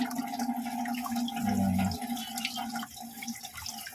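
Tilapia fish rinsed under running water from a kitchen tap, a steady close stream with shifting splashes and drips as the fish is moved about.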